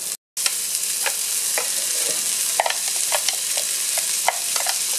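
Onion sizzles in the pot that just browned beef for a stew, a steady close frying hiss dotted with sharp pops and crackles, with no talking after a brief silent gap at the start.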